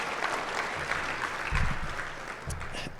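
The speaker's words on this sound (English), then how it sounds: "can we get a round of applause for them?" A crowd at a university hall of fame ceremony gives a round of applause for the event committee, a steady wash of clapping with a few louder claps and murmurs near the end.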